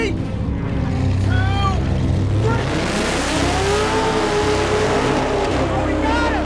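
A racing car weaving to heat its tires, a loud sustained engine drone with rising and falling revs and tire noise, close and continuous, with voices talking over it.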